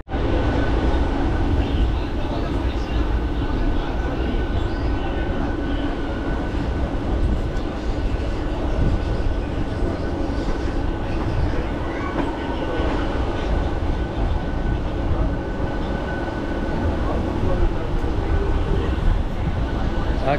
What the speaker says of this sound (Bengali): একদম নির্ধারিত সময়ের থেকে প্রায় 20 মিনিট লেটে ট্রেনটা ছাড়লো